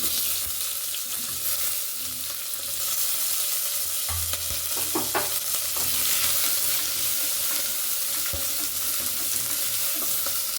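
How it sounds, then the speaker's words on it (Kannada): Chopped onion frying in a pan for a cucumber and lentil sambar, sizzling steadily while a spoon stirs and scrapes through it, with brief clinks and no talk. "ಇವಾಗ ನೋಡಿ ಒಂದು ಈರುಳ್ಳಿನ ಹೆಚ್ಚಿಟ್ಕೊಂಡಿದ್ದೀನಿ ಅದು ಕೂಡ ಹಾಕ್ಕೊಳ್ತೀನಿ"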